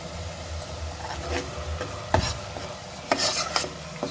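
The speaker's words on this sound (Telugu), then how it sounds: "సో ఇది బాగా పచ్చిదనం పోయే వరకు ఇలా వేయించుకోవాలి." A spoon stirs masala frying on medium-low flame in a pan for Telangana-style fish curry, giving a soft sizzle broken by scraping and occasional knocks against the vessel.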